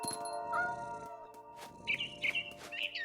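Birds chirp in the video game What Remains of Edith Finch, a few short bright calls over a steady outdoor ambient bed, with no voices.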